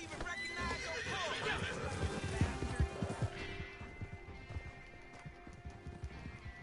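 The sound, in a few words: horse hooves galloping in Red Dead Online video game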